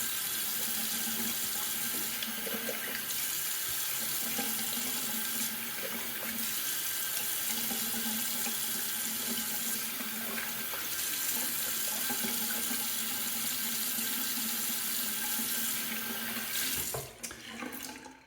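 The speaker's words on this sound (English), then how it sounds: "Let me do a quick little rinse here" Tap water runs steadily into a sink while a double-edge safety razor is rinsed, a continuous close splashing stream that stops abruptly near the end with a few clatters.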